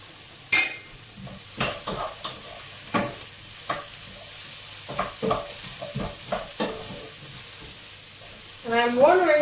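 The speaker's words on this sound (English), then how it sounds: "Let's mix this for a moment." A spoon stirs a winter vegetable cobbler filling in a frying pan, with repeated scraping strokes against the metal over a steady sizzle, close up and with no talking.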